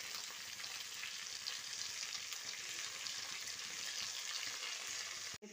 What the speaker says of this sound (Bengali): এবার এটাকে কিছুক্ষণ আমি 5 মিনিট ভালো করে ভাজবো